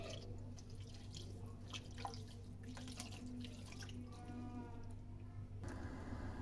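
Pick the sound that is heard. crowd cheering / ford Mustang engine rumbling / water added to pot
water added to pot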